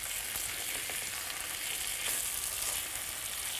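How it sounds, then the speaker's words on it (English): Herring sizzles briefly in a hot pan, a dense, continuous bright frying hiss that stays steady and close, with no talk over it. "Really just flash the herring, because it's just to warm it up really and to pick up all those nice juices."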